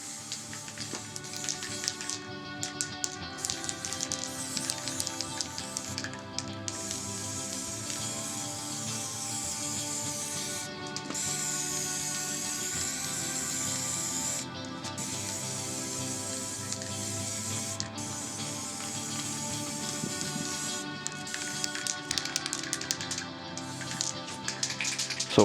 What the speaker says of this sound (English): sometimes my spray is really close to the replica